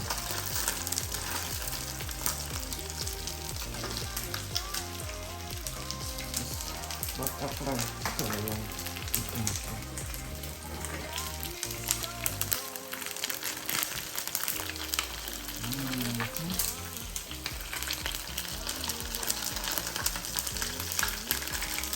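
Dumplings fry in butter in a pan, giving a steady, close sizzle and crackle that runs the whole time, with stirring clatter and a faint voice underneath.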